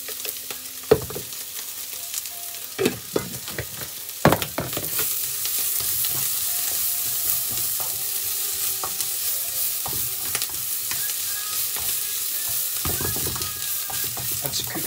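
Pork and chicken noodles fry in a pan with a steady, loud sizzle, broken by stirring scrapes and a few sharp utensil knocks against the pan, with no voices.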